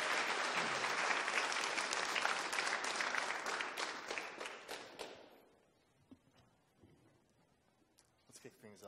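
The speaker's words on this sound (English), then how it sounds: "let's have a big round of applause for tonight's guests" Audience applause for guests at a Titanfall 2 trailer making-of event, dense clapping for about five seconds that fades out into near quiet with faint murmurs.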